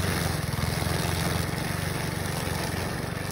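A long-grass weed mower fitted with a steel blade and a front auxiliary wheel runs steadily at close range, its small engine droning loudly with a fast, even pulsing throughout.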